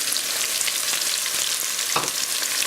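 Diced onion and a stalk of celery fry in a pan for braised lamb shanks, with a steady, dense sizzle throughout and a faint stir or scrape near the end.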